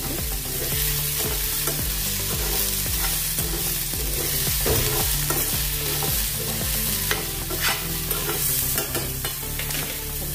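Roasted chana dal stirred in a sizzling pan with tamarind, a rhythmic scraping of spoon against metal repeating over steady frying crackle, close and clear with no voices.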